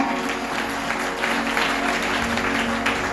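A church congregation at a Hindi-language prayer service claps loudly for Jesus, a steady, dense wash of many hands sustained throughout without pause.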